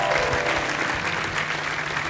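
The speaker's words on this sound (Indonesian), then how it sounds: "Tepuk tangan" A studio audience on an Indonesian makeover show claps in a dense, lively burst of applause, loud and close, with a faint voice underneath.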